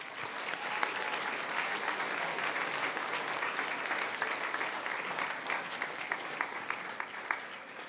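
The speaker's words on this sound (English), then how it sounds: "Give them a round of applause." An audience at a town hall gives a round of applause, steady and fairly distant clapping from many hands that continues throughout with a few sharper individual claps standing out.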